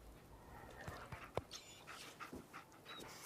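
Dogmeat, the dog companion in Fallout 4, pants softly with a few faint whimpers and small breathy sounds, quiet and close against low game ambience.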